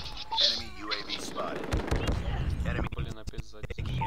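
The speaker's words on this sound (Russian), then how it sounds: "Я стреляю" Gunfire in the mobile shooter Call of Duty Mobile, several sharp shots and bursts, clustered toward the end, mixed with game sounds while someone talks over much of it.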